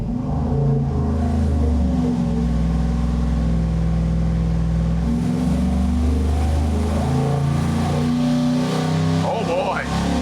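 A Chevy 350 V8 on a dyno burning race fuel, running with a bigger cam, roars loud and sustained at a steady high load with a brief dip around the middle, and the engine note dominates throughout.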